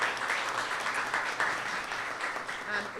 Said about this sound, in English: A big round of applause for Councilmember Cornegie.